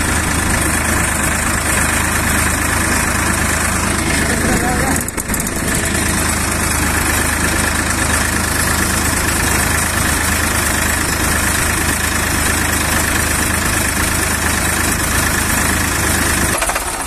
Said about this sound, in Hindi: चलो आपको मैं बिठा के इंजन गेयर की आवाज भी सुनवा दूं।